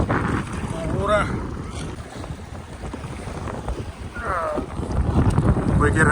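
Strong wind roars steadily at a rock wall fishing spot at the Groins, Kurnell, buffeting the microphone with rumbling gusts throughout, while faint voices are heard in the background.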